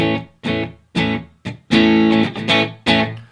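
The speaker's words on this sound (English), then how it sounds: "this guitar sounds pretty great, just clean" An electric guitar through an amplifier plays a series of strummed chords with short gaps, bright and ringing, with no voices.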